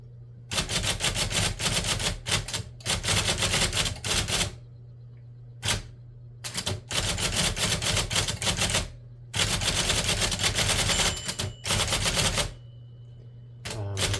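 A 1965 IBM Selectric electric typewriter types on thick paper, giving rapid bursts of sharp mechanical strikes over a steady motor hum, with brief pauses between runs of keystrokes.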